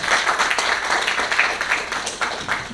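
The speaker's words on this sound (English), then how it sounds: "A big round of applause." An audience applauds after a talk, a dense, steady wash of many hands clapping at moderate loudness with no pauses.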